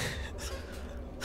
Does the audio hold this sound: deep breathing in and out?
yes